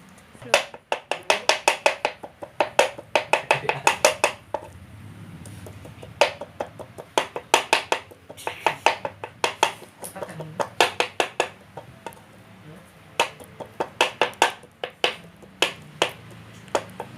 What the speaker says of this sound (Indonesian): Ayam yang sudah kita cuci lalu kita cacah-cacah terlebih dahulu.